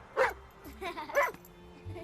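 A dog gives a few short yappy barks and whimpering yips close by, in a couple of bursts with quiet gaps between.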